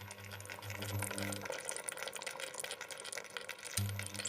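Liver stew bubbling in a pot on an induction stove, a steady close wash of simmering and bubbling broken by a low electrical hum that stops and returns, with no speech.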